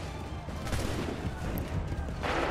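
A ragged volley of musket fire in Assassin's Creed 3, dense overlapping shots bursting together in a loud rolling crackle against a battlefield din, with a fresh surge near the end.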